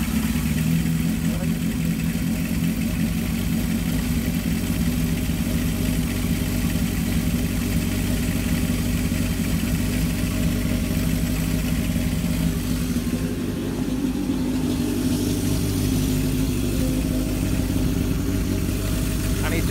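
A Kawasaki KZ650 motorcycle engine idles steadily at about 2000 rpm, a continuous close-up mechanical drone with no revving.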